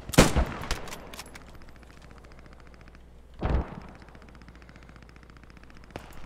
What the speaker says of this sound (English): Mortar's coming in on Arsenal, guys.